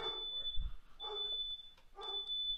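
Smoke alarm beeping inside a house, three evenly spaced shrill high beeps about a second apart, fairly faint and alone, with a short low thump near the first beep.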